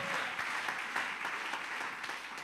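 A church congregation applauds the Lord during a sermon, a continuous, fairly distant roar of many hands clapping with occasional sharper claps standing out from the crowd.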